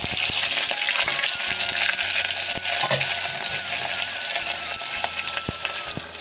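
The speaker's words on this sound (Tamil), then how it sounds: "வெங்காயம் போட்டு நல்லா வதக்கிக்கலாம்." Onions, green chillies and curry leaves frying in a pan for tomato rice, a dense continuous sizzle close by, broken by occasional clicks of the spatula.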